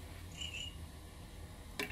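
A person imitates cricket chirping with the voice in a quiet cruise ship balcony cabin, giving two soft, high chirps followed by a brief, sharper burst near the end.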